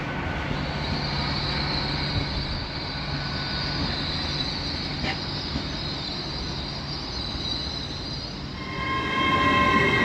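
A non-stopping train, likely bound for Edinburgh, rushes past Newark-on-Trent station, a continuous loud roar of wheels on rails with a faint squeal, swelling again near the end.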